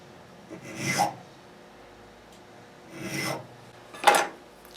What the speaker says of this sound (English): Now we're ready to cut the nut slots